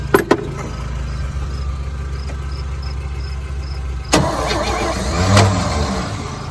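A '63 one ton truck's engine cranks in a steady, close, rhythmic starter churn, then a louder surge near the end, with no talk.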